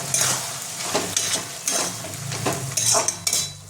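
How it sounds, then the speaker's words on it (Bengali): Fried peanuts and curry leaves being added to a boiled potato filling, giving close metal scrapes and clinks of a utensil against a pot in several short bursts, no voices. "এবার আমি বাদামগুলো দিয়ে দেবো এর মধ্যে"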